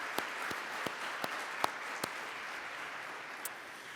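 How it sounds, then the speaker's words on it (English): Crowd applause at a college commencement ceremony, steady and moderately loud, with a few sharper individual claps standing out from the dense wash of clapping. "Let's give her a round of applause."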